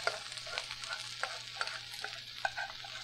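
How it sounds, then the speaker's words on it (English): Steady sizzling of rice frying in a pan, with light scraping and stirring clicks scattered throughout, fairly quiet and continuous. "Listen to that sizzle."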